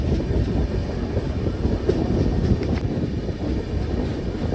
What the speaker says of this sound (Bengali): এটা আমাদের ট্রেন ওভারটেক মারছে হাপা নেহরলাগুন স্পেশাল ট্রেনকে